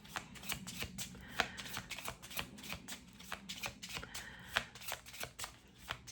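A deck of tarot cards is shuffled by hand at close range, with quiet repeated riffling and rapid slapping flicks in an uneven rhythm.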